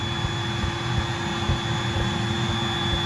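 A steady, loud motor drone with a constant whine comes from the electric pump built into an Intex full-size 22-inch premium air bed as it tops off the mattress, running evenly throughout with no speech.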